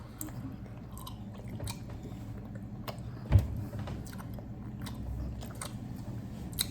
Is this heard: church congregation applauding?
no